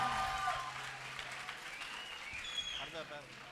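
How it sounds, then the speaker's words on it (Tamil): Applause from a music competition audience, faint and fairly diffuse, fading gradually while a voice talks over it and brief tonal sounds appear. "எங்கே இவர்களுக்கு உங்கள் ஒருமித்த கரகோஷம்"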